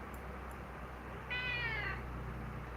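A house cat gives a single drawn-out meow partway through, close and clear above a steady low room hum, with no talk over it.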